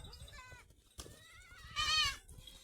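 A goat bleats close by, a short wavering cry near the end, after a fainter bleat and a brief knock, among goats eager to eat soybean.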